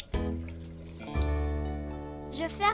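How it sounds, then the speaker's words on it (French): A water tap is turned on and runs into a bathroom sink for tooth brushing in a children's cartoon, a steady close stream starting abruptly after a soft click, with a tonal musical backing throughout. "J'ouvre le robinet."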